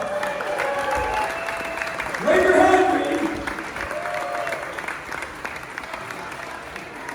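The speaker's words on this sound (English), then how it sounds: "Everybody who doesn't know Reed Johnson, give him a round of applause." A crowd at a sports cafe applauds and cheers for Reed Johnson, clapping swelling briefly louder midway, under and between a man's amplified speech.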